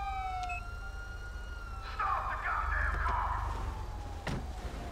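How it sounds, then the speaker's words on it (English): Police car siren in the GTA 5 video game wails through the whole stretch, rising and falling in steady sweeps over a low engine rumble, fairly loud and alone with no talk. "Shut my fucking siren off."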